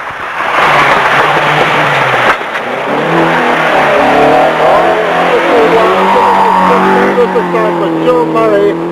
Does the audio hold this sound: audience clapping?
no